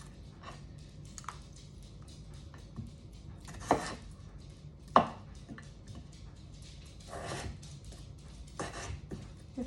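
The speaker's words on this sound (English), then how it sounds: "we're gonna get our potatoes, start cutting them up, start boiling them so we can make our mashed potatoes." Russet potatoes being cut up on a board for mashed potatoes, a few sparse, soft knife thunks and scrapes, quiet and close.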